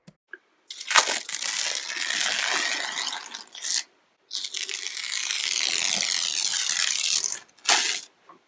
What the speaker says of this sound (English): let's start stripping this tape